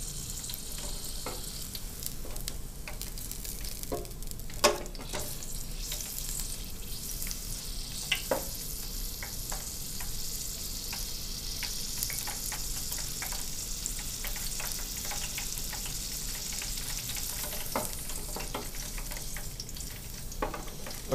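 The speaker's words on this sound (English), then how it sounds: "Kind of like deep frying some chicken wings." Steady crackling sizzle of food frying in hot oil, continuous for the whole stretch, with a few sharper pops and spits, no voices.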